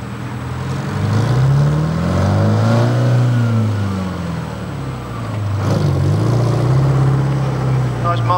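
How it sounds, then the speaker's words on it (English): A Foden two-stroke diesel lorry engine drones loudly as it passes close by in a parade, its pitch rising and falling with the approach and departure, then a second swell. "Two-stroke engine, again. You'll hear the sound as he goes past."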